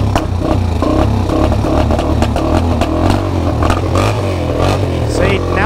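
An ATV or dirt bike engine runs steadily after the fuel is switched back on, a loud, close, continuous motor drone with revving surges and mechanical clatter throughout, brief talk riding over it.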